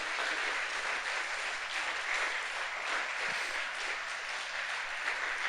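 Steady applause from a large church congregation fills the space, a dense continuous clatter of clapping hands without pause.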